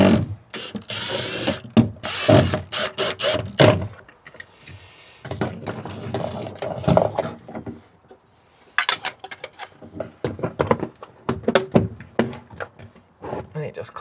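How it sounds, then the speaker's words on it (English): A cheap new crimping tool squeezes a network cable connector, giving a string of sharp ratcheting clicks and snaps in bursts over about fourteen seconds, up close, with some talk between them. "Our first crimp with our new crimpers."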